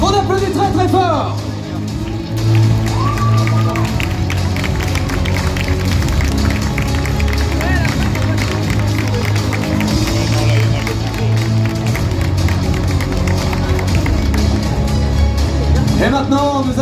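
A crowd applauding during a cosplay parade at the St-Malo Japan Pop Show: sustained clapping and cheering mixed under loud background music, with an announcer speaking at the start and end.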